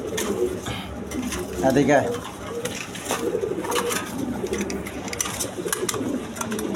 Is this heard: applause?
no